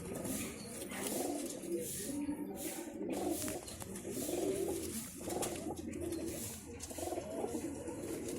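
Several pigeons coo in low, throaty repeated phrases, overlapping one another at close range.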